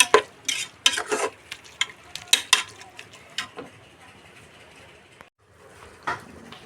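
Biryani masala sizzles in a pan while a spoon stirs it, with sharp scraping strokes in quick bursts over a steady close frying hiss, easing off toward the end.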